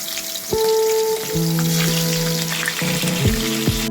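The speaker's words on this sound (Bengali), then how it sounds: "প্রায় কিছুটা সর্ষের তেল দিয়ে গরম করে নিয়েছি এবার একে একে মাছগুলোকে আমি ছেড়ে নেব" Fish sizzle loudly in hot mustard oil, a continuous crackling fry with sharp spits and pops, close and alone without speech.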